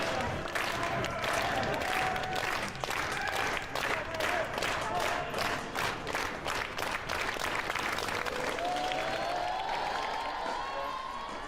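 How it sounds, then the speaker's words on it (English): Spectators at a college tennis match, Baylor on match point, starting a slow clap that builds into loud rhythmic applause and cheering, with commentary talking over it. "Give me that first slow clap"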